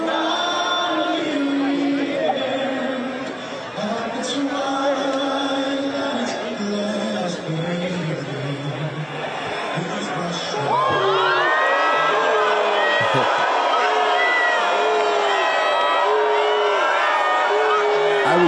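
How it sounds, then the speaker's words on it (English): A crowd booing Trump at a Knicks game: loud, sustained jeering and shouting from many voices that swells partway through, with someone talking over the noise throughout. "outside booing him."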